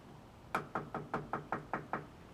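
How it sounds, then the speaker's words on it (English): Eight evenly spaced knocks on a door, sharp and fairly close, rapping in a steady rhythm with no talking. "I have to knock on the door, though."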